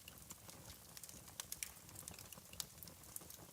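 Fireplace fire crackling softly, with scattered sharp pops and snaps over a low, faint hiss, sounding close but quiet and continuous.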